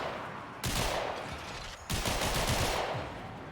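Turrets in the Warframe video game open fire in two dense, loud bursts of rapid shots, the second starting partway through and running to the end.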